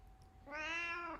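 A single drawn-out meow from Brody the cat, close and clear over a quiet room, rising then holding steady for about a second.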